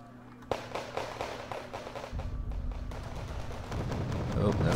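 Heavy gunfire and explosions from a World War II strategy game tournament match, dense crackling bursts that build steadily louder over the clip, with rumbling impacts underneath.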